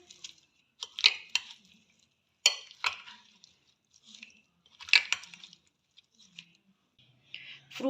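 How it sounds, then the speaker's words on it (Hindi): Banana pieces and raisins being stirred into a fruit chaat in a bowl, heard as soft, scattered wet clicks and scrapes in irregular bursts, close and fairly quiet, with no talking. "आखिर में किशमिश ऐड कर लें। इनको अच्छे से मिक्स कर लेंगे।"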